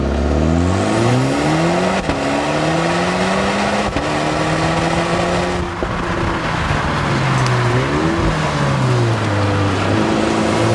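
A BMW X2 M35i sport SUV accelerates hard on a race track, its engine note rising and falling through repeated gear changes, loud and close throughout with steady wind and road roar beneath.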